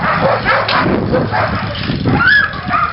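A team of sled dogs at a Denali, Alaska husky kennel barks, yips and whines in a loud, continuous chorus as the team leaves the yard, many dogs overlapping close by.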